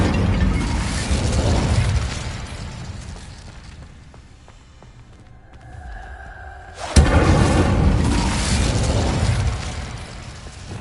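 A fire spell cast in the Hogwarts Legacy video game on PS5 bursts in as a loud whooshing blast, then trails off into a quieter lull. A second powerful burst of flame and rumble follows, with no talking.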